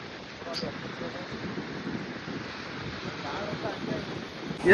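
Surf rumbles and washes steadily under wind buffeting the microphone, with a voice speaking briefly.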